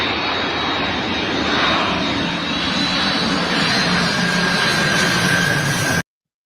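An airplane roars overhead on a played-back recording, a loud continuous engine drone with a steady whine that holds for about six seconds before cutting off abruptly.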